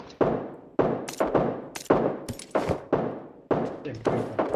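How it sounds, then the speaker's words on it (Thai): Gunshots in PUBG Mobile, a string of sharp, punchy shots fired in separate bursts, each trailing off into a short echo, with players' voices underneath. "เสียงปืน"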